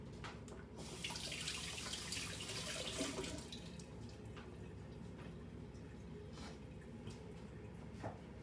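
Running tap water splashes steadily into a sink as an egg is rinsed under the stream, a faint, even hiss with small shifts in the splashing.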